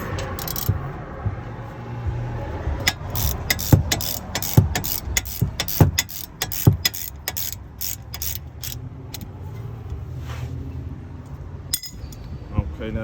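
Ratchet working loose the brake caliper bolts on a 2016 Volkswagen Jetta SE: rapid, close metallic clicking in quick bursts and steady runs, with clinks of tools, no one talking.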